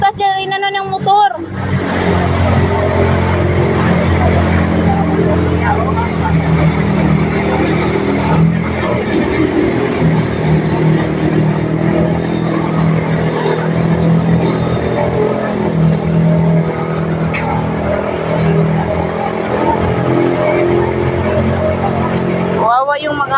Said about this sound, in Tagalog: Dinadaan yung mga sasakyan, malalim na yung tubig.